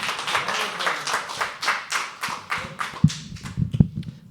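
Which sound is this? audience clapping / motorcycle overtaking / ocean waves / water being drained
audience clapping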